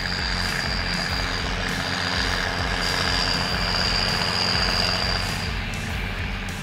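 Steady, loud engine drone from a 2005 Massey Ferguson 8480 stepless-transmission tractor running on a farm, constant low rumble with a thin whine on top throughout, no voices.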